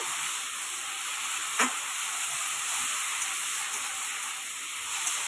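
Ginger, green chillies and tomato being sautéed in hot oil for a vegetarian paneer aloo dum masala, giving a steady, close, even sizzle and hiss, with a couple of brief clicks from stirring and no voice.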